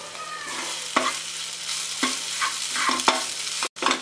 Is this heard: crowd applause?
no